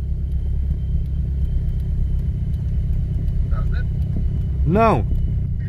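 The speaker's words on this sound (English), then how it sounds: "we're going so slow that the diesel is actually pushing us forward" A diesel car with failed brakes creeps slowly along in gear, its low engine rumble steady and loud throughout, with a short rising-falling squeal near the end.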